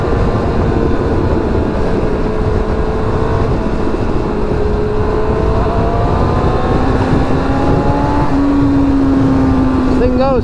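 Yamaha R1 project motorcycle with a freshly sorted clutch accelerating hard on a road, loud engine note climbing in pitch through the gears, heard close with steady wind rush throughout.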